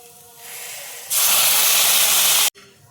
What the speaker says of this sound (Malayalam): അപ്പം നമുക്ക് ഇതിലോട്ട് ഇനി കുറച്ച് വെള്ളം ഒഴിച്ചു കൊടുക്കാം